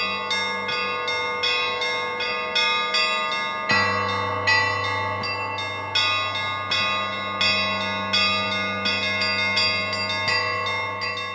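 Russian Orthodox church bells ring in a steady layered peal, bright clangs struck in quick rhythmic succession over a sustained low hum, loud and close with no voices.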